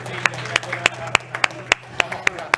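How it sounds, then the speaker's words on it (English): Scattered audience clapping at the Huawei Digital Talent Summit, a dozen or so distinct sharp claps at a steady rhythm, fairly close, with a low hum underneath. "Again, a big applause to all of you."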